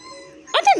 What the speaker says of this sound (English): Dogs crying over there?